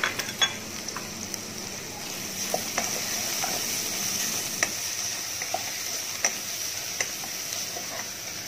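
Ground spices fry in oil for a mutton curry, a soft, even sizzle punctuated by scattered spatula ticks and stirring taps against the pan, with no one speaking.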